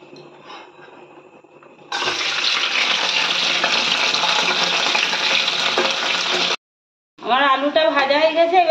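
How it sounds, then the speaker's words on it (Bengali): Potatoes frying in hot oil while a home cook makes biryani: a steady, loud sizzle that holds for several seconds. Speech is heard before and after it. "এবার আলুগুলো ভেজে নেব।"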